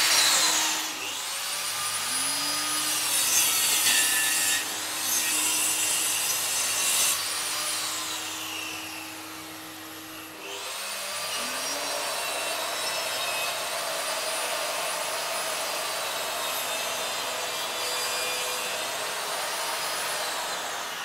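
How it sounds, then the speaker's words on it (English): Mafell KSS 300 circular saw with a 900 watt motor cutting wood on a guide track, a loud, sustained whining cut that runs for several seconds, pauses briefly, then resumes for a second long pass. "Even at full cutting depth, the 900 watt motor has more than enough power to cut"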